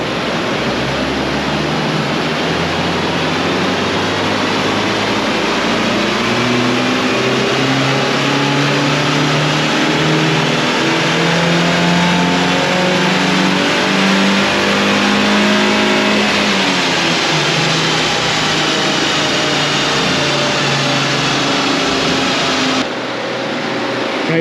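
A 4x4 car engine revs hard on a chassis dyno in one loud, sustained pull, its pitch climbing steadily before easing off near the end, with no voices.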